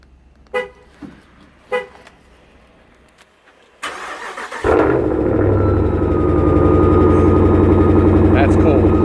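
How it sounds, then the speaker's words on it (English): A 2017 Dodge Ram 1500 with a 5.7 Hemi V8 cold-starts in freezing weather: a few faint clicks, then the starter cranks and the engine catches with a loud roar before settling into a steady, rumbling idle. "Do a cold start. 2017 Dodge Ram"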